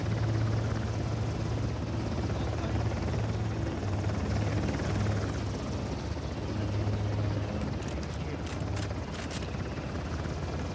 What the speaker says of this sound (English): Where's this chopper?